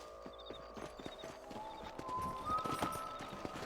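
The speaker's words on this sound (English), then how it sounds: "Let's get back on the horses and see what else is going on." Horses ride along in the Red Dead Redemption video game. Rhythmic clip-clopping hooves sound at an even trot, with faint game tones and ambience underneath.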